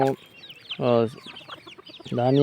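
Free-range country chickens give three loud, close clucks, with softer chirps and calls between them in an open outdoor setting.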